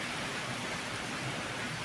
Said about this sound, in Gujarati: એટલો બધો વરસાદ પડી રહ્યો ને આજે